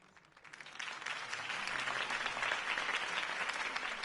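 Crowd applause greets Harvey Dent's campaign speech in Batman: The Telltale Series, swelling from a quiet start into dense, sustained clapping from a large audience.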